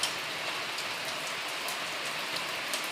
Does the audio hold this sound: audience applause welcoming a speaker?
no